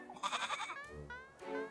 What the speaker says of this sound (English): Creepy goat.